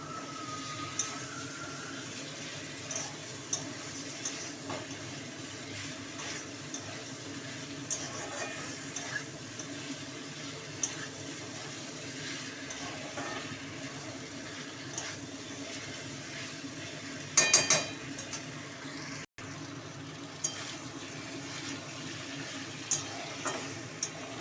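Cauliflower curry (niramish fulkopir rasha) sautéing in a pan with a little water, a steady soft sizzle and bubbling with occasional stirring scrapes and a brief louder clatter near the end.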